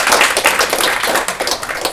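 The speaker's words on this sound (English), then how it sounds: "Another clap to Mr. Josh, timekeeper extraordinaire." Audience applause at a science pitch competition, a dense patter of many hands clapping close and fairly loud throughout, with no talk over it.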